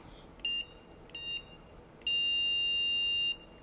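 A dog e-collar remote gives off high electronic beeps, two short tones followed by a longer sustained one, clear and close against a quiet room.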